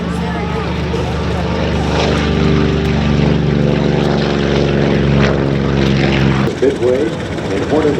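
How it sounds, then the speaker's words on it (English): A Grumman F6F Hellcat propeller fighter runs up for takeoff at an air show, its radial engine droning loud and close with a strong low, pulsing tone. Someone talks over the engine, which shifts sharply near the end. "It's the Grumman F6F Hellcat that's about to take off."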